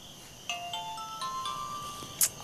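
A mobile phone rings from inside a pocket, playing a melodic ringtone of bright ascending electronic notes over quiet background.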